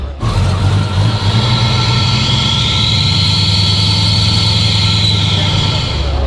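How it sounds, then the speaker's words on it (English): A 1950 Chevy 3100 pickup with a 350-horsepower crate engine, Mustang II front end and fuel injection, idles with a steady, loud low rumble throughout. "It's a 330, 350 horse crate engine."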